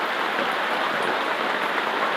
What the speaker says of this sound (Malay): Lah hujan luar.